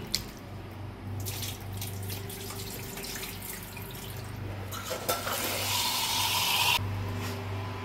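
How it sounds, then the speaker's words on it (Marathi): Raw chicken being washed under a running kitchen tap: steady gushing water with rubbing and splashing as the pieces are handled, the flow briefly cutting off near the end, no talk. "चिकन धुवून घ्यायचं"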